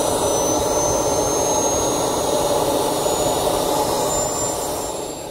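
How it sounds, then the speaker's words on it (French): Kerosene-fuelled model RC jet turbine engine running steadily with a loud, continuous roar and high whine, near and alone, easing slightly at the end. "Le bruit de nos réacteurs modèle réduit sont très comparables à de véritables réacteurs."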